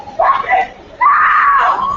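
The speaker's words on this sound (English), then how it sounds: "we definitely went out on screams" People screaming loudly at the close of a podcast segment, two long, strained, high cries close to the microphone, the second one longer and sustained.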